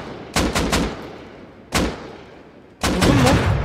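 Pump shotgun blasts in an online shooter game: three quick loud shots, then a single shot, then another sharp blast with a voice under it, each close and booming with a short decaying tail.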